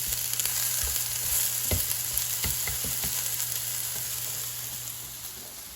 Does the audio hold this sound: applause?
no